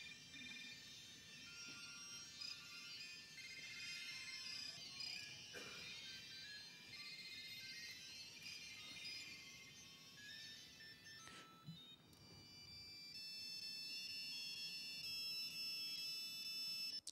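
Mobile phones from a concert audience ringing together, a faint sustained chorus of high electronic chirps and tones, thickening near the end, heard from a distance with no talk over it.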